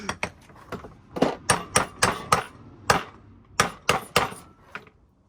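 Sharp metallic clanks and taps ring out in an irregular series as a worn socket wrench works on an engine rocker cover, each strike close and distinct with brief silences between.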